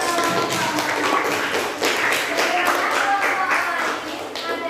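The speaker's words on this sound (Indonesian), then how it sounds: "beri tepuk tangan untuk kelompok" Elementary school class clapping for a student group, a lively round of many small hands with distinct rhythmic claps, fairly close and loud, with children's voices mixed in.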